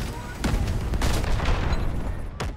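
Artillery barrage and battlefield gunfire in the video game Delta Force Hawk Ops: a dense, continuous din of sharp cracks and booms, with several distinct impacts standing out across the stretch.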